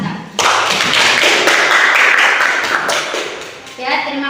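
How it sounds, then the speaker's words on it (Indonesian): A meeting room full of people bursts into loud clapping for their company, a sudden start that sustains for a few seconds and then thins out as a voice begins speaking near the end. "Mari kita bersikap, tepuk tangan untuk perusahaan kita."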